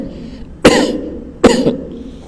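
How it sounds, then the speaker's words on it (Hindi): A pair of forceful nearby coughs less than a second apart, each a sudden bursting onset that fades in a brief raspy tail, made while leaning forward in a prone-position deep-breathing exercise. "फिर गहरी सांस लेना है और फिर खांसना है।"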